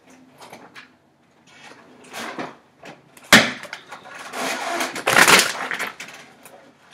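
Close to a kitchen, kids open the refrigerator, giving a series of soft knocks and scrapes followed by two louder clattering bumps and a rattling slide. The sounds come irregularly and are fairly near, with no talking.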